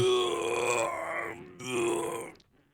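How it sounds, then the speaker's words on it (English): A man's long drawn-out yawn recorded close up early in the morning, a groaning voiced exhale that dips briefly and then swells again before trailing off into silence. "a lot of people said the dad yawn, and I was able to catch at 6:42 this morning a beautiful recording"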